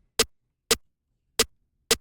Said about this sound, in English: Then get your snares that sound like this.